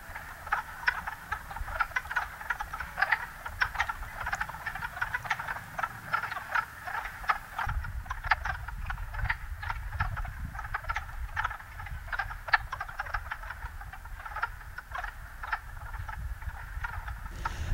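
Spring chorus of yellow-spotted, Jefferson and wood frogs at a vernal pool, dense overlapping croaks and clucks that pulse steadily throughout, with a low rumble of background noise under the calls.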